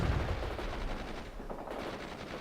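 Machine gun fire in the strategy game World in Conflict, a steady clatter of rapid shots that sounds fairly distant and muffled, continuing throughout with no talk.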